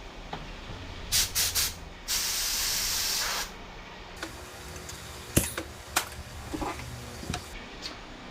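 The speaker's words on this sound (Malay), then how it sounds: "ini adalah spray gun daripada ANI, buatan daripada Itali" An ANI spray gun made in Italy releases paint in a steady, loud hiss lasting about a second and a half, with short spurts before it and scattered clicks and knocks afterward.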